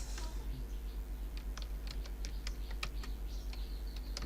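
Keys clatter on a computer keyboard in a quick irregular run of close, light clicks over a constant low hum.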